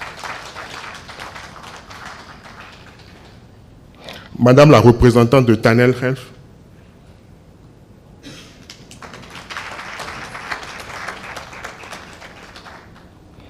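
At the launch ceremony of JNCPB 6, an audience bursts into loud clapping for about two seconds between formal spoken announcements.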